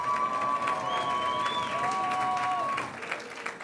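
Audience applause and cheering at the 2017 Reach Award ceremony of the National College of Education, a steady wash of clapping with a sustained whistle or tone and gliding squeals running through it, holding for a few seconds before thinning out.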